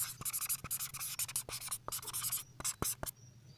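Pen scratching across paper or a board while an equation is written out, a steady run of close strokes and short scrapes with brief taps between them, faint whispery noise underneath.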